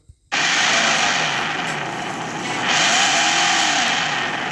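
A Dodge car fitted with a fake exhaust system makes a steady, loud engine drone that starts abruptly and swells in the second half, with rising whine and hiss, continuous and alone without talk.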